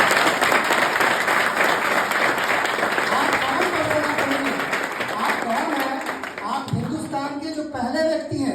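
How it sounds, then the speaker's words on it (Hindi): An audience bursts into dense, loud applause that holds steady for several seconds, then thins out as a voice begins speaking over the fading claps. "आप अपने लिए और जोरदार तालियां बजाइए"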